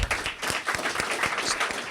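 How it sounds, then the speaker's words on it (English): An audience at an award ceremony claps in a distinct rhythmic pattern, individual hand claps standing out in a moderate, fairly close round of applause. "So a round of applause to you guys to help."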